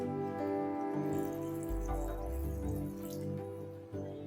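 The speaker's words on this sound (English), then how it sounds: "Let's add a cup of water to this." A cup of water trickling and dripping into a pot of chicken curry for a few seconds over a low background hum, close by and fairly quiet.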